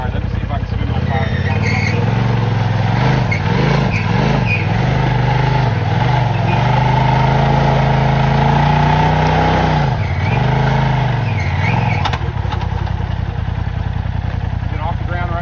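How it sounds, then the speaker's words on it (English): A motorcycle engine revs hard and steadily while the rider tries to spin the tire, rising and falling in long surges and staying loud up close for the whole stretch, with people talking over it. "let me see if I can spin my tire"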